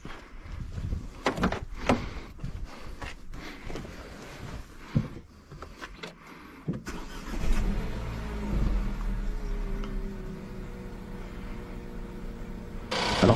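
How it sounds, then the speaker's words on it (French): A Renault Megane 4 engine cranks and catches after an oil change, a few sharp clicks and thumps giving way to a steady low idle that settles and holds close to the microphone. "On va démarrer le moteur."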